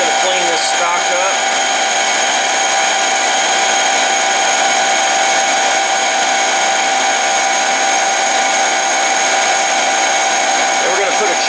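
Lathe or similar machine tool facing stock on spacer parts, a steady loud high-pitched machining whine with dense upper tones running continuously throughout, no talk audible.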